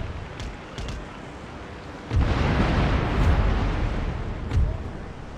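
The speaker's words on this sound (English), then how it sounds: "Gonna be so many cannon rounds firing into that galleon that it will probably surrender before it even fires." Cannon fire from warships in a naval battle in Empire: Total War comes as a heavy, rumbling barrage of booms that swells partway through and then lingers, with a few faint earlier thuds before it.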